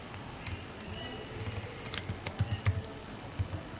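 Quiet computer-keyboard typing while entering a document type, soft irregular key clicks close by over a faint background hum, slightly louder taps in the latter half.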